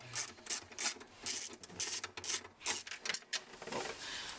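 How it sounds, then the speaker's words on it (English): A 10mm socket ratchet clicks in quick bursts while unscrewing the fitting bolts of a Range Rover L322 WABCO air suspension compressor, close and crisp, with brief pauses between runs. "So it's a 10mm socket. Okay, so let me just spin those out."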